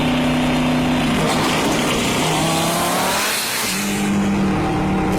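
A twin-turbo, stroked 9-litre Dodge Viper V10 engine revs hard and loud, its pitch climbing, dropping, then rising again as it is run up close by.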